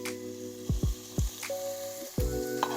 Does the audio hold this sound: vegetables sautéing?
yes